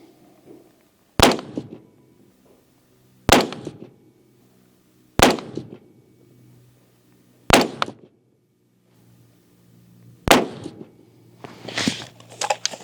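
Five sharp, loud 6.5 Creedmoor rifle shots are fired into ballistic gel, spaced roughly two seconds apart, each with a short echoing decay. Faint movement noises sit between the shots.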